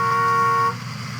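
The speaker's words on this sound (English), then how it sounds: "Why are they all honking?" A car horn sounds one sustained, loud, steady blast for under a second and then cuts off, leaving traffic noise.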